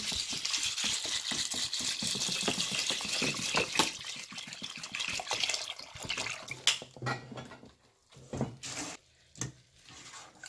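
Water pours and splashes into a bowl of shiro ingredients being rinsed in an Ethiopian kitchen, a rushing gush with rattling grains that breaks into short sloshes and pauses toward the end, close and moderately loud.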